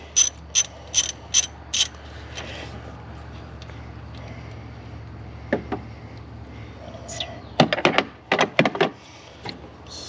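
Ratchet wrench clicking in quick bursts while installing a Getrag shift kit on a Pontiac Fiero, a high-torque fastener; sharp close ratcheting runs at the start and again near the end, with faint mechanical handling in between.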